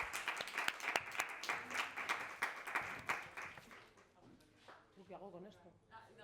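An audience at a gender projects lecture event claps for itself, a burst of scattered hand claps that thins out and fades, giving way to people talking nearby.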